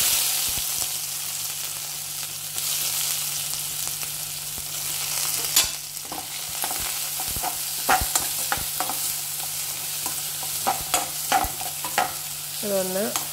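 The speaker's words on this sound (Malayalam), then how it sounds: "കടുക് പൊട്ടി കഴിഞ്ഞാൽ നമുക്ക് ഇഞ്ചും വെളുത്തുള്ളിയും ഉള്ളിയും കൂടി ചതച്ചിട്ട് കൊടുക്കാം." Mustard seeds crackle in hot oil, then crushed ginger, garlic and onion fry for rasam, a long steady sizzle broken by sharp pops and spatula scrapes that grow busier toward the end, with no voices.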